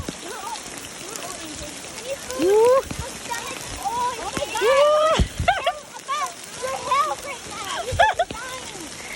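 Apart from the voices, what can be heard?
hail storm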